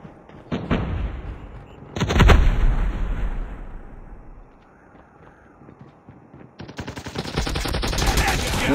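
Gunfire in the Call of Duty Mobile multiplayer game: loud, close bursts of rapid shots, one heavy blast, a quieter lull, then sustained automatic fire to the end.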